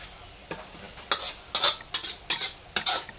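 A utensil scrapes and stirs shallots in a hot pan, with a soft sizzle and about half a dozen sharp metallic strokes coming close and loud in an irregular rhythm.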